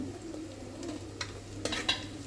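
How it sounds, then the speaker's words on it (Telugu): Green chillies and onions fry in a pan for spicy tomato rice, a faint steady sizzle with a few sharp stirring scrapes and clinks near the end. "పచ్చిమిర్చి కూడా ఫ్రై అయిపోవాలి కొంచెం"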